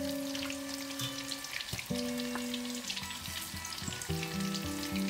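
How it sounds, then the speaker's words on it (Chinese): Pear pieces double-fried for 10 to 15 seconds in reheated hot oil: a dense, steady sizzle full of fine crackles, heard close over faint background music. "我们把它们在下入的油锅中复炸一次，这样呢吃得更加的酥脆"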